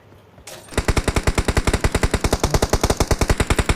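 Rapid automatic gunfire in the mobile battle-royale game PUBG Mobile, a steady stream of around thirty loud, evenly spaced shots that starts abruptly after a brief quiet moment and runs without pause.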